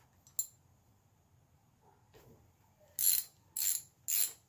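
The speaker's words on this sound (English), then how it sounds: "socket goes straight in" A socket wrench ratchets on the lower bolts of an outboard engine with its cowling removed, giving three close, sharp clicking bursts near the end after a few faint taps and clinks.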